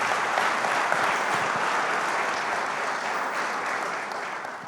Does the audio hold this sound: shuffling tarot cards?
no